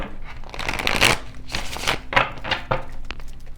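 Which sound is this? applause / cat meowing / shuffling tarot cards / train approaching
shuffling tarot cards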